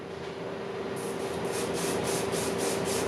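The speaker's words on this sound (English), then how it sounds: "Now we simply just take our holding spray" Holding spray hisses onto a freshly cut hair lineup in a series of short, rhythmic bursts over a steady mechanical hum, close and fairly loud.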